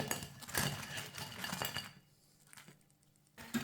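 Potato nuggets set onto a plate in a home kitchen, giving a few light clinks of dishes and utensils up close, with a quieter pause and a last clink at the end.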